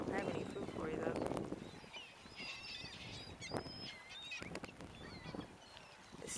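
Ducks and geese calling at a lakeside while people feed them, scattered honks and quacks close by over outdoor ambience, with a person talking loudly at the start.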